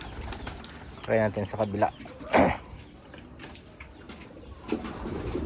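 Racing pigeons coo softly in the background while someone speaks, with a few brief bursts of louder sound between his words.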